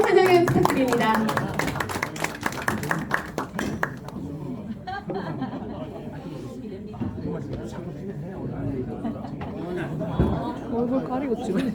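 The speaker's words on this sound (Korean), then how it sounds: "큰 박수로 환영을 부탁드립니다." Scattered clapping from a gathering welcoming a gubernatorial candidate at a party members' meeting, brief and uneven at the start, then fading under continuous nearby talk and chatter.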